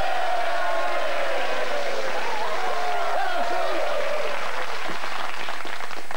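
A TV quiz-show studio audience applauds and cheers football supporters in a dense, loud wash of clapping that is sustained throughout, with a voice rising over the crowd.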